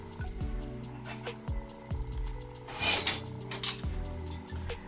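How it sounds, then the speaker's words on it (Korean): Metal utensils clink and scrape against a plate several times while tuna pancakes are plated, with a brief cluster of sharp chinks in the middle, close and clear. "이렇게 예쁘게 접시에다가 한번 담아보겠습니다"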